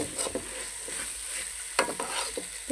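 Rice and lentils fry in a pan as a spoon stirs them, producing a soft sizzle broken by several sharp scraping strokes, heard close and alone.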